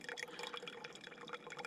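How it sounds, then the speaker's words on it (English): A tiny trickle of water in the backcountry, a faint, steady patter of drips and splashes running throughout without a break. "It's this tiny little trickle"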